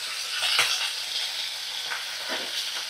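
Broad beans sizzle steadily in a pan with salt and turmeric, up close, with a few short spatula scrapes and taps breaking through the hiss.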